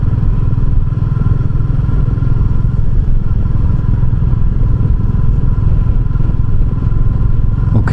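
A Royal Enfield Meteor 350 riding over small potholes and road bumps, its single-cylinder engine thrumming steadily and loudly up close with faint clatter from the suspension throughout, no talking.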